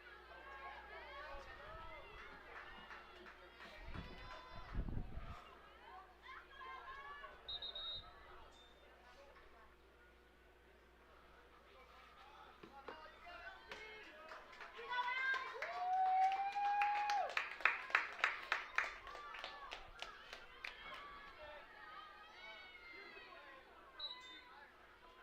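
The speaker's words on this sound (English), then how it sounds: "Good lacrosse crowd coming in." A crowd at a girls' high school lacrosse game in Rhode Island between La Salle and East Greenwich, with steady chatter and murmur that swells into cheering and scattered clapping midway, heard from a distance.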